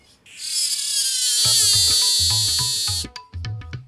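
A male insect stridulates, its abdomen amplifying the song into a loud, sustained buzzing drone, then breaks into a rapid series of short pulsed chirps near the end, close and alone.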